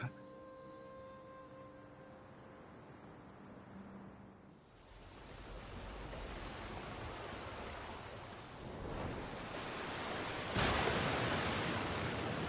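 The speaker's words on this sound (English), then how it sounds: "The water." Flowing water in the Genshin Impact video game, a steady broadband rush that swells louder and fuller midway, with soft musical tones at the start and no talk.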